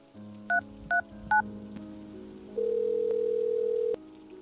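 A telephone keypad beeps three distinct DTMF tones in quick succession as a three-digit emergency number is dialed, followed by a steady ringing tone over quiet background music.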